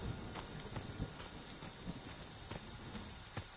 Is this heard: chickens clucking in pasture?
no